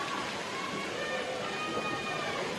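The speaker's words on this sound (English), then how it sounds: "The rain looked like it was going to hold off, and now it is coming down in buckets." Heavy rain pours down at an outdoor para archery bronze match in Den Bosch, a dense, even hiss of falling water that holds steady and fairly loud throughout.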